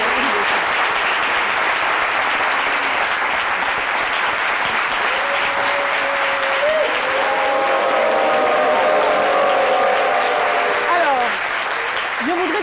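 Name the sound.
audience applause during a standing ovation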